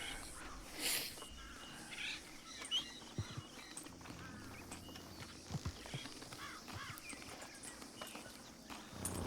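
Horse hooves clip-clop at a walking pace in the Red Dead video game, soft irregular steps with faint birdsong in the background.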